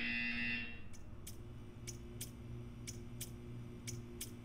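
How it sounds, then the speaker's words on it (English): A buzzer in the Portal 2 video game sounds once loudly at the start, followed by a series of short, regular ticking pulses over a steady background hum. "When you hear the buzzer, stare at the art."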